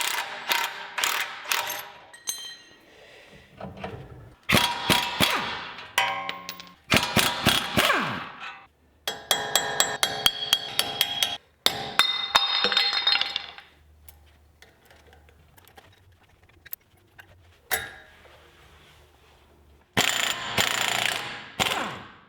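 Tie rod end coming off a 5th-gen Toyota 4Runner's front suspension with a removal tool: repeated bursts of close, loud ratcheting clicks and metallic clanks, stopping and starting with brief quiet gaps.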